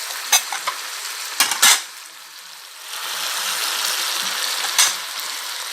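Carrots, leeks and mushrooms sizzling and frying in a pot, with a spoon stirring and clinking against the sides in a few brief knocks, then a steady soft sizzle.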